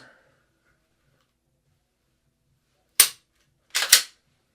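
Gunshots ring out while quickly shooting three or more targets: one sharp crack after a silent stretch, then two more in fast succession, loud and close against a quiet background.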